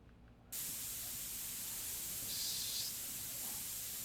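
A spray nozzle in the Car Dealer Simulator video game hisses steadily while a car is checked for leaks, a loud continuous broadband spray starting abruptly after a short quiet moment and holding nearly unchanged to the end.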